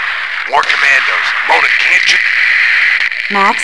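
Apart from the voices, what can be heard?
radio transmission breaking up, video game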